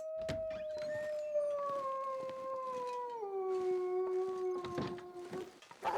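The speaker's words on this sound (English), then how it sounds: "I knew he was close from the howl" A wolf howls in the survival video game The Long Dark, one long sustained howl that slowly falls in pitch and then steps down, loud and fairly close over faint background noise.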